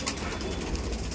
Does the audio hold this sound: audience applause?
no